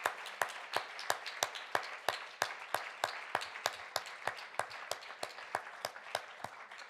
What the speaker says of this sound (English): A huge round of applause to all of you.